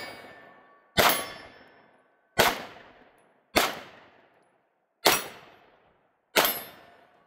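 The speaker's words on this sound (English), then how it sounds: "All right, let's try a little one-handed shooting." A Sig P365 pistol fired one-handed, five sharp loud shots spaced roughly a second apart, each ringing out and decaying before the next.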